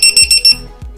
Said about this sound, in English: this thing sounds an alarm and it's very obnoxious